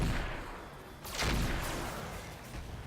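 Ultra autocannon fire in the mech combat game RogueTech: a heavy booming burst over a dense, rumbling wash of battle noise, loud and sustained with no voices.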